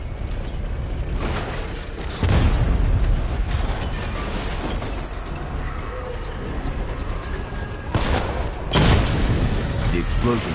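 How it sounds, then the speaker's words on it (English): Two heavy booming explosions sound in the video game Batman: Arkham Knight, the first after about two seconds and the second near the end. A continuous mechanical rumble runs between them. "The explosion disabled the main cannon."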